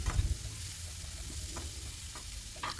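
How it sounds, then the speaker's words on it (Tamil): Egg noodles with masala, chilli, coriander and turmeric powders being stirred in a hot frying pan: steady close sizzling with a few scraping stirs, no talk. "ஆட் பண்ணிவிட்டு நல்லா கிண்டி விடுங்க."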